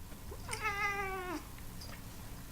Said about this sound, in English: if I can make my cat meow right now